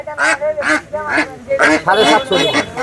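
Loud, close ducks quacking in rapid overlapping bursts, several birds calling together in a noisy, crowded rural poultry market.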